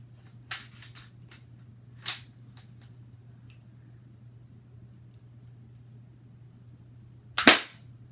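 A Lego M416 toy gun fires several sharp, faint clicking snaps spread over a few seconds, with a louder double crack near the end over a steady low hum.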